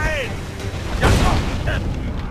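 A ship's cannon fires in the pirate video game Assassin's Creed 4 Black Flag, one deep booming blast amid sea ambience, with shouted game dialogue around it.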